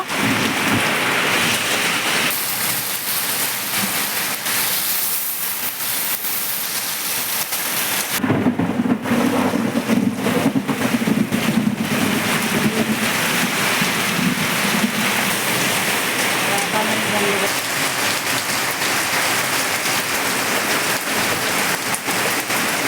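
Torrential rain with rolling thunder pours steadily over a Bengali village, a loud continuous wash of heavy rainfall that swells noticeably midway as the downpour intensifies, with low rumbles running beneath.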